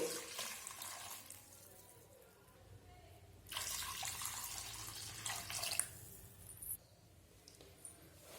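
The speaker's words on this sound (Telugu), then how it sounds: "ఇప్పుడు తగినంత వాటర్ పోసుకొని" Water pours into a cooking pot for a lentil and gongura dish, a soft, steady splashing that swells in two bursts with quieter trickling between them.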